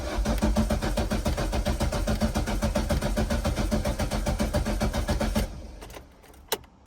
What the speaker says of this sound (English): we cranked the engine for maybe 5 to 10 seconds